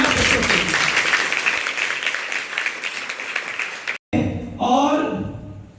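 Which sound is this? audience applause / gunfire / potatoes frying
audience applause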